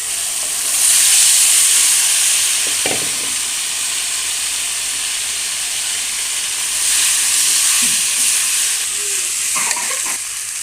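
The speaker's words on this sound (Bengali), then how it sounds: "এই তো একটু কষানোর পর এখন ঢেলে দেব আলু।" Potatoes go into a hot pan while cooking an egg and potato curry, giving a steady broad sizzle and hiss that swells and eases, with a few faint stirring knocks near the middle and end.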